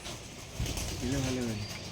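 A Giribaz pigeon gives a soft, low cooing call close by amid faint background noise, with a person talking nearby.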